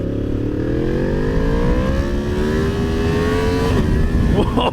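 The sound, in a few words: Yamaha MT-10 motorcycle with SC Project exhaust accelerating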